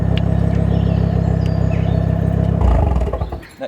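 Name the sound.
hot hatch car with straight-pipe decat exhaust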